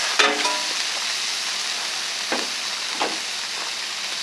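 Burger patties sizzle steadily on a hot griddle, a loud even hiss broken by a metallic clink and a few scraping flips of a spatula, with no voices.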